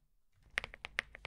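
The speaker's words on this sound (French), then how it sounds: "Désolé pour le son de clavier." Computer keyboard typing, a quick run of sharp, close key clicks at an uneven pace that start after a brief quiet lead-in, with no voices over them.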